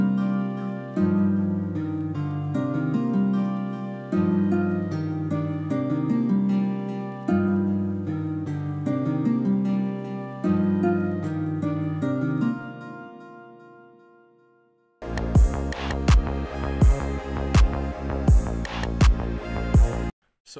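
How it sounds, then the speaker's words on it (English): Layered trap beat melodies sound together in FL Studio, looping in a repeating phrase of sustained chords and lines that fade out. A denser, brighter section with rhythmic pulses follows. "All the melodies together sound like this."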